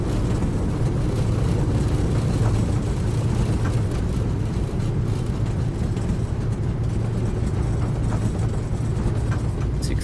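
A PMDG 737-800 in Microsoft Flight Simulator roars loudly and continuously with engine reverse thrust during the landing rollout, a dense, steady rumble without speech.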